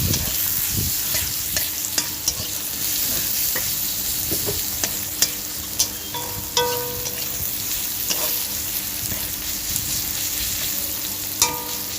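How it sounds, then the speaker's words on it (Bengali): Chopped onion frying in a pan is stirred with a metal spatula: a steady sizzle punctuated by intermittent scraping clanks of the spatula against the pan, close and clear. "দিয়ে এটা আমি ভালো করে খুন্তি দিয়ে নাড়াচাড়া করে নেব"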